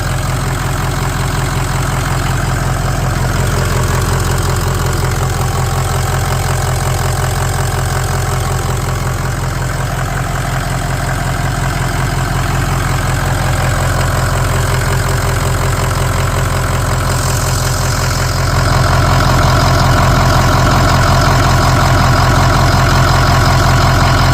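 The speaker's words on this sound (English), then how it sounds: "Started right up for me." A 2004 Ford F350 truck engine idles steadily after starting, a constant low rumble with a faint knocking rhythm running close and unbroken throughout.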